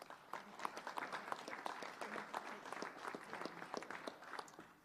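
A crowd at a Massachusetts governor's transportation roadshow event on culvert replacement applauds steadily, dense clapping filling the whole stretch without a pause.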